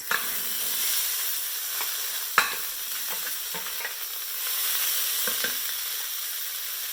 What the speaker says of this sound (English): Let it fry for 30 seconds and then we can add the beans and the salt